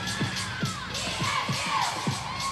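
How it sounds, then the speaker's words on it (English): A crowd or team chants rhythmically with repeated shouted beats at a college women's gymnastics meet in an arena, somewhat distant and steady, with cheering mixed in. "you hear the crowd with the chant, or the team with the chant behind it"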